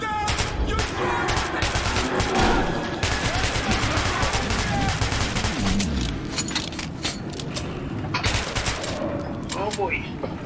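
Rapid machine-gun bursts rattle through a firefight in the video game Metro 2033, loud and near, mixed with clanking gear and shouted voices during the shooting.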